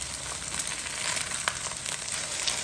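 Eggs fry in a pan with a steady, bright sizzle, a few soft scrapes and pops breaking through the constant crackle.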